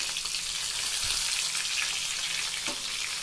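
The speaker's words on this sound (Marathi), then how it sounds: "मिरची आपली एकदम मस्त प्रकारे तळत आहे।" Green chilies stuffed with a spice masala fry in a pan, giving a steady, close, even sizzle with a couple of faint stirring knocks and no talking.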